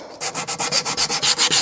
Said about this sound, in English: I'm going to sand them away.